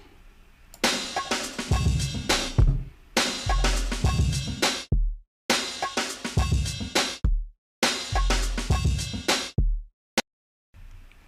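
A chopped drum beat for a refix, with extra kicks and a deep 808 bass layered in, playing in punchy repeating bars that cut out abruptly between sections.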